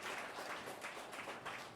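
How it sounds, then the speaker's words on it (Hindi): A large audience claps together in a dense, even wash of applause, fairly faint and distant, with no voices standing out. "कमान जोर से ताली बजा"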